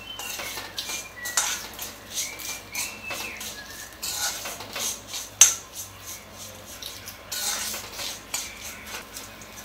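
Lemon pickle is sautéed in oil, with a spoon scraping and clinking against the pan in irregular strokes, close and fairly quiet, with a soft sizzle underneath and no voices.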